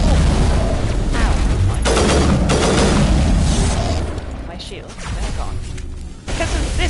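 Sniper and other gunfire in Mass Effect comes as a loud, dense run of booming shots and impacts. It fades briefly near the end, then strikes again.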